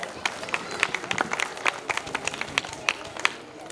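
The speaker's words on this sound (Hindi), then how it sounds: "जोरदार तालियां हो जाए।" At a school Olympiad prize distribution ceremony, an audience claps in loose, uneven bursts of sharp claps over a low murmur.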